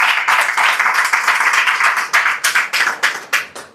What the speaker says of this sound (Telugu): గట్టిగా 2 చేతులు చప్పట్లు కొడదాం